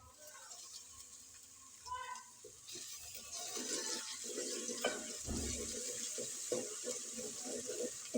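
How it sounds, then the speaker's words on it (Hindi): Ginger garlic paste dropped onto golden fried onions in a pan, the faint hiss rising into a steady crackling sizzle with small stirring clicks, quiet and close with no talk. "तो अब मैं इसमें डाल दूँगी अदरक लहसुन का पेस्ट।"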